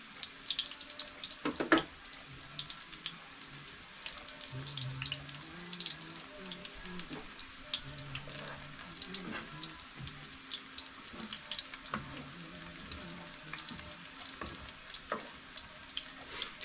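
Potato pancakes fry in a pan over a cabin stove, giving a steady, moderate sizzle that runs without pause, with faint clinks and scrapes now and then and no talking.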